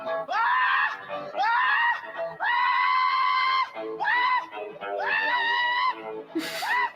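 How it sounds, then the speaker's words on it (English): Drawn-out, wavering screams from a movie repeat in long loud bursts, close and harsh, with short gaps between them. "The screaming is so weird to me."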